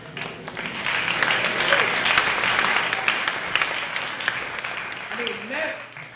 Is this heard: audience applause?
yes